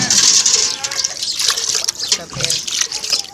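Sugar water splashes and trickles steadily as it is poured into a vessel, a continuous close pouring sound with voices faintly mixed in.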